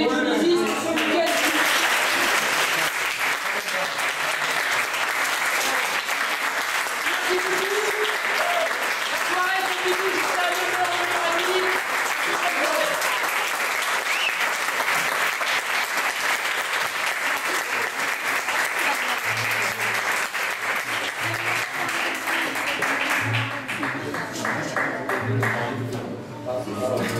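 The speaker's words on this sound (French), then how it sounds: "j'aimerais qu'on finisse par applaudir Louis et Genesis pour ce week-end" Loud, sustained audience applause fills a stage event honoring two dance couples, dense clapping running without a break for nearly half a minute before easing slightly at the very end.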